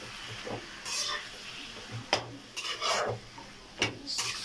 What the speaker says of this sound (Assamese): এতিয়া ভালদৰে এইখিনি মিক্স কৰিম।